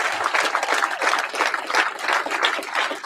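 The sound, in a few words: audience applause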